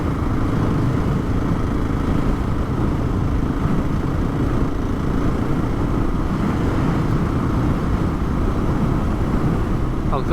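A two-stroke scooter engine drones steadily on a rural trail near Clattering Shores in Scotland's Southern Uplands, a continuous buzzing rumble heard close and loud, blended with wind noise.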